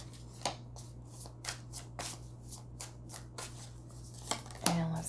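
Tarot cards shuffled and handled during a pick-a-card reading, giving repeated soft riffling and slapping bursts at an uneven rhythm, close and fairly quiet, with a brief louder flutter near the end.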